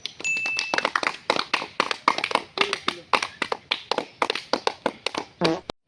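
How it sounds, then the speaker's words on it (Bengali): Hands clap in a steady, even rhythm, around twenty sharp claps in quick succession, close and loud, with a few voices faintly mixed in. "আর হাততালি দাও।"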